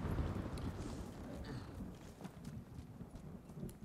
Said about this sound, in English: Oh my god. Horse.